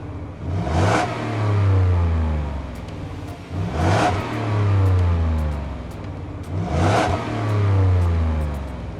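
Three strong revs from the 5.0-liter V8 of a 2025 Ford F-150 Lobo street truck, each a sharp rising roar that falls back to a deep rumbling idle, evenly spaced and close.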